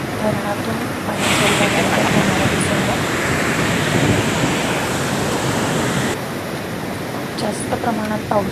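Floodwater roars out of Chanakapur dam in Nashik district during heavy monsoon rain, a broad rushing surge that swells loud for several seconds and then drops back to a steadier background flow.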